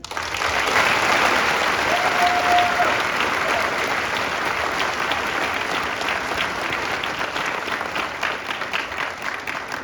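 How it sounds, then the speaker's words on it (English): A crowd applauds the awardees of BLC class 08-23 at a military graduation ceremony, with sustained, dense clapping from many hands that starts strong and continues evenly, easing slightly in the final seconds. "Please join me in a round of applause for the awardees of Class"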